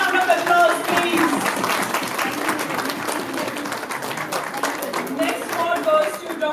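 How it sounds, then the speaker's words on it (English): Steady applause from an audience at a women's awards ceremony after a lifetime achievement honour, dense even clapping continuing for over six seconds without a break. "Big round of applause, please."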